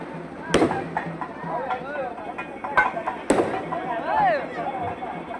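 Firecrackers and fireworks burst in sharp, loud cracks at a Mariamman temple festival during a milk-pot procession, several bangs scattered across the moment over crowd noise and a voice speaking.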